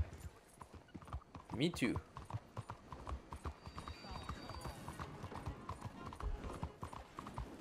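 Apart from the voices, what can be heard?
horse hooves in Red Dead Redemption 2 video game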